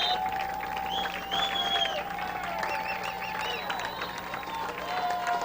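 Fans in the stands at a high school football game, Marion vs Ell Saline, applauding a 40-22 score, a steady crowd clapping and cheering heard from a distance, with whistles and shouts scattered through it.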